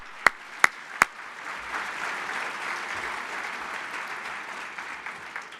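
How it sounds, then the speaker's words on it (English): Three sharp, close claps ring out first, then a broad, softer wash of crowd applause at a corporate wireless-industry event rises and continues evenly to the end. "So give you guys a round of applause."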